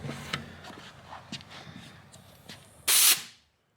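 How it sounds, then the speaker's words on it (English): A strong hissing blast from an air compressor nozzle, blowing air into a plugged part of a 1975 Volkswagen Super Beetle that sat for 20 years. It lasts about half a second and comes after quieter workshop clatter and faint knocks. "Let me get the air compressor now that I can get like a good shot on it."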